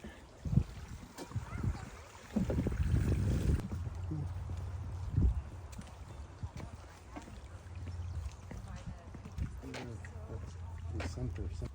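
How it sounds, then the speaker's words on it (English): Waterfall in Sholom Park heard as a steady rushing, splashing wash of falling water, moderately near, under intermittent talk and footsteps on a stroll. "There's a waterfall."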